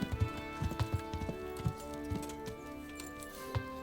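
In the video game Kingdom Come: Deliverance, a horse's hooves clip-clop in a steady, uneven rhythm over a sustained tonal music bed, heard at moderate volume with no talking.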